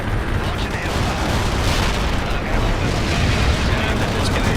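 Dense, continuous battlefield din of gunfire and explosions from the World in Conflict strategy game, a loud rumbling wash with no clear gaps between blasts and no voices.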